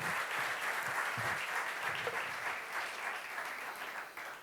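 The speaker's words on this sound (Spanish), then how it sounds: "Un aplauso." Audience applause at an evening journalism award ceremony, a dense steady clapping from a crowd held for several seconds, tapering slightly at the end.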